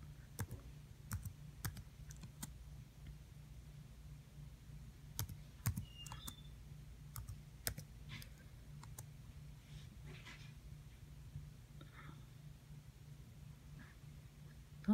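Soft, irregular clicking of keys on a computer keyboard, quiet and close, with scattered taps and short runs over a low steady hum.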